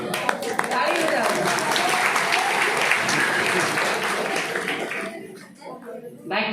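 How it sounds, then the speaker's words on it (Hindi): An audience at a Diwali spiritual gathering breaks into sustained, dense applause that holds steady for several seconds before tapering off, then briefly swells again at the end. "ताली बजाओ।"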